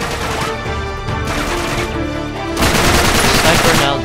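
Shotgun and sniper rifle fire in Uncharted 3 comes as dense, loud game gunfire, continuous and heavy across the span and swelling louder near the end.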